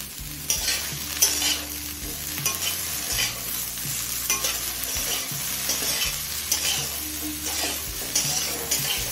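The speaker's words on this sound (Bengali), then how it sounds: "নুন দিয়ে সমস্ত সবজি মিনিট 5 ভেজে নিয়েছে।" Vegetables including broccoli and capsicum stir-fried with salt in a kadai, a steady close sizzle under repeated scraping strokes of a spatula, with soft low thuds as the pan is worked.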